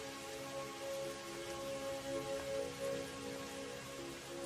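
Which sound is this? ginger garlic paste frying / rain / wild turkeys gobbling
rain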